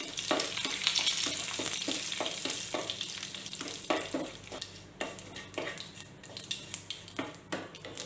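Mustard seeds, urad dal and curry leaves sizzle and crackle steadily in hot oil for a Tamil kara kozhukattai, with rhythmic scraping taps of a spoon stirring against the pan through the second half.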